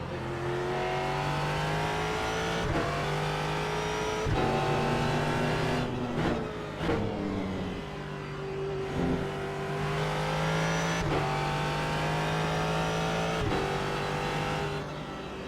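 Ford GT race car engine in the iRacing sim, droning steadily at moderate volume on a cool-down lap, with repeated shifts and dips in pitch as it eases off and reaccelerates, no voices.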